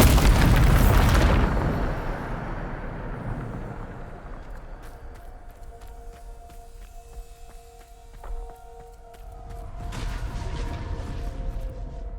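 Bombarda blast spell in Hogwarts Legacy: a loud booming explosion at the start that rumbles and fades, followed by softer game mechanisms, tones and a small pop, then a low swelling rumble.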